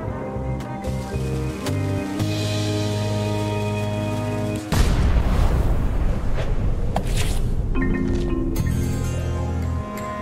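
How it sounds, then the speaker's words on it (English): Orchestral music plays in the video game Return to Monkey Island, then a loud ship's cannon boom bursts in midway and leaves a heavy, rumbling wash of noise under the continuing music. "Ready for cannon firing."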